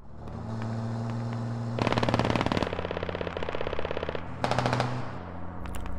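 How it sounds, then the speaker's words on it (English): Machine gun fire in the military shooter game Squad, loud rapid bursts around two seconds and again near four and a half seconds, over a steady low vehicle-like drone and scattered distant shots. "Fluffs gets gunned down by King."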